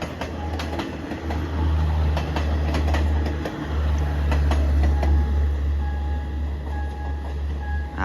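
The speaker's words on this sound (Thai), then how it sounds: "เป็นขบวนรถเร็วที่ 167 กรุงเทพปลายทางสถานีกันตังนะครับ เป็นรถเร็วสายใต้นะฮะ" Rapid train no. 167, Bangkok to Kantang, on the southern line passing a level crossing on Si Ayutthaya Road, a loud close rumble of rolling wagons with rhythmic wheel clicks and a faint steady tone from the crossing.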